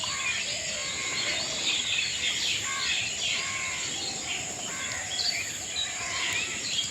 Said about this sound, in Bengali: পাখিরা ডাকাডাকি করে, আর সেই আওয়াজটা শুনতে অনেক ভালো লাগে